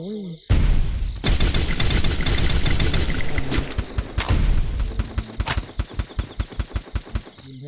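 Rapid automatic gunfire from a video game fills the clip, dense and loud, then breaks into a steady run of separate sharp shots near the end, with excited talk mixed in underneath.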